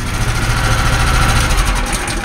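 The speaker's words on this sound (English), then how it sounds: "as you can tell right there, it's a lot higher RPM than the other one used to be." Predator 212 small engine runs fast at raised RPM, a loud, steady close-up drone with a rapid buzzing pulse and no voices.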